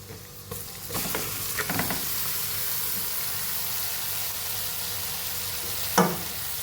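Lemon pieces tossed into hot oil with Kashmiri chili powder for a sweet and sour lemon dates pickle, a continuous strong sizzle with several bursts of stirring and a sharp clatter near the end.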